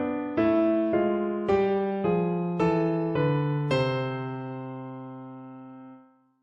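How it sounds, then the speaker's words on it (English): Piano plays a bebop major scale in contrary motion, the two hands moving apart between treble and bass in steady even chords, about six struck clearly before the final one rings out and fades. "I've scored the bebop major scale here in contrary motion"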